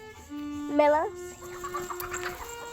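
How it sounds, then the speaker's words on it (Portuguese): A chicken gives a loud rising squawk near the mic, followed by softer clucks from the flock in a quiet outdoor setting. "Tá assustando as galinhas toda, Beca"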